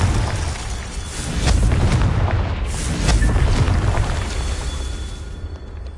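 Confringo spell explosions in a video game, a steady run of loud booming blasts and crackling bursts that roll together over about six seconds.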